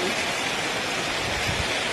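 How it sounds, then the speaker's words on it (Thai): Steady rain falls around a rural Thai house, a dense, even hiss of drops filling the whole stretch with a few soft low thumps near the end. "ฝนตกสายฝนเห็นแล้ว"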